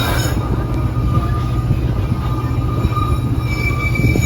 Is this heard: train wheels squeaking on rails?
yes